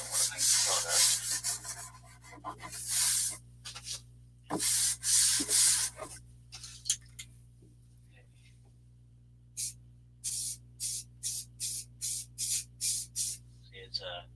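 Hand sanding of wood comes in repeated rubbing bursts, first longer scrubbing strokes and then a quick run of short even strokes, close by with quiet pauses between.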